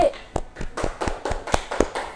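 Sparse, uneven claps from a small classroom group applauding a student, a handful of separate hand claps spaced irregularly over about two seconds, close and fairly loud.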